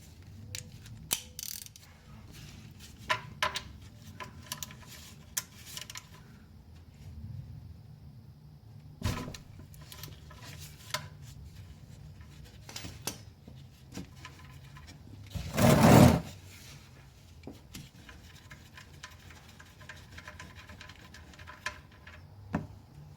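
A ratchet clicks in short bursts while loosening the oil drain plug on an Infiniti G37S or Nissan 370Z, followed by one brief louder rush as the plug comes free; the sound is close and sparse.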